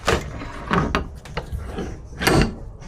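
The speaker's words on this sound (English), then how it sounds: "This is this dent puller. Slides over this." A slide-hammer dent puller on the rear quarter panel of a 2011 Chevy Equinox gives a few sharp metallic clunks and scraping slides, close and fairly loud, in uneven bursts.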